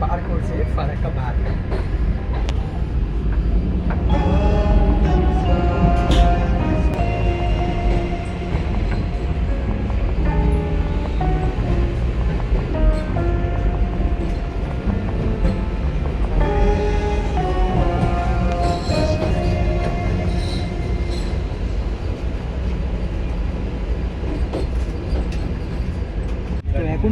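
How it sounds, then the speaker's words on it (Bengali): A Vande Bharat Express train runs on the tracks near Farakka at night, heard from inside a carriage. A continuous loud rumble and rattle carries on steadily throughout, with voices talking over it. "ট্রেন কিন্তু পার করছে ফারাক্কাবাদ।"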